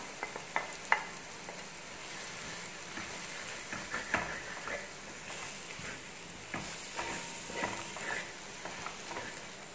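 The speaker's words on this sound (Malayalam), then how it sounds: "മഞ്ഞപ്പൊടി ഒന്ന് ഇളക്കി കൊടുക്കാം" A spoon stirs turmeric powder through a sizzling mixture in a frying pan, a steady hiss with faint scraping clicks and taps running throughout, fairly quiet and close.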